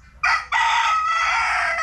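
A rooster crows loudly and close by, a short opening note followed by a long drawn-out call, with no voices over it.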